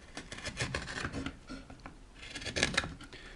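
A sharpened wood-carving chisel cuts across pine end grain in a quiet run of soft, close scraping and crisp slicing strokes, a few sharper bursts near the end.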